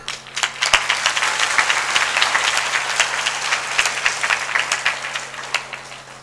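Students clap together in a village intercollege hall, a steady crowd applause of dense, crisp hand claps lasting several seconds at fairly even loudness with no talk over it.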